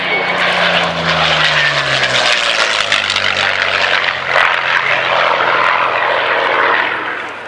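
A Curtiss P-40 Kittyhawk's piston engine drones loudly and steadily with a deep propeller hum and a falling tone early on, like a nearby flypast, with no talk over it.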